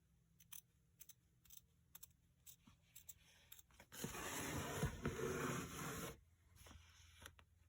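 Scissors snipping fabric for a dog toy blanket, a series of quick crisp cuts followed by a longer rustling scrape of the material, close and quiet.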